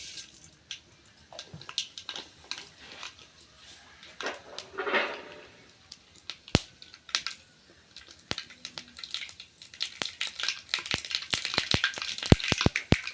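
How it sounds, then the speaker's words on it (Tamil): Mustard seeds spluttering in hot oil in a pan, with quiet hiss at first, then a rising run of sharp crackling pops that turn dense and rapid near the end, close up and with no talking. "எண்ணெய் வந்து நல்லா சூடாயிட்டு கடுகு சேர்த்துக்கிறேன்"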